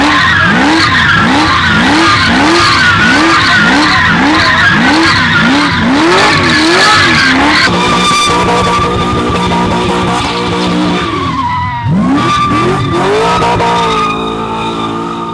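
An HSV GTO coupe does controlled circle work, its engine revving in a rapid regular rhythm of rising and falling pulses, then settling into loud continuous tyre skidding and squealing close by, with no talk.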